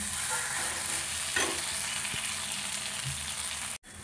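Potatoes, already sautéed, being stirred and fried in a pan for a gravy: a steady, close sizzle with soft scrapes of the spoon, broken by a brief dropout near the end, with no voices.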